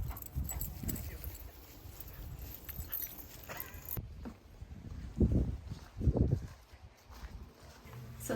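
Dogs nearby outdoors on a fall day in rural Vermont, with a couple of louder bursts of whining or yipping over wind and rustling.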